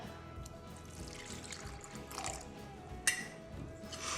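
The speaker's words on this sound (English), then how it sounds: "I'm going to add my water, and I just eyeball it." Water poured into a sourdough starter jar during feeding, a soft steady trickle running for several seconds close by, with a brief clink near the end.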